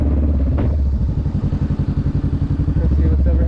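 A motorcycle circles slowly around a parking lot, its engine chugging with a rhythmic pulsing throb at close range, steady and loud throughout.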